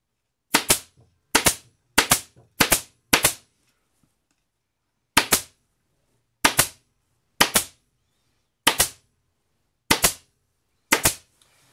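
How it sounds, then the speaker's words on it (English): Upholstery staple gun firing staples into burlap, eleven sharp snapping shots in quick bursts with short pauses between groups, close and clear. "specifically staplers for upholstery, and I would recommend an upholstery stapler"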